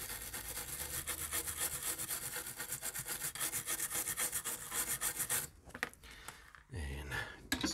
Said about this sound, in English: just a quick clean up with some isopropyl alcohol. Give it a quick little scrub.